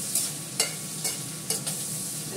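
Fish frying in a wok on an induction cooker, a steady sizzle with a few sharp scraping stirs of the pan at irregular intervals, close and alone without talk.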